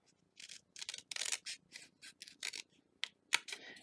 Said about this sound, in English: just get your scissors